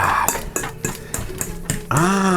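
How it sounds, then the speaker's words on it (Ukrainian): A fork mashes a cottage cheese mixture for syrniki in a bowl, giving about seven sharp metallic clinks and scrapes in a steady rhythm, close up, ending in a ringing clang. "Ми їх отак перетираємо виделкою."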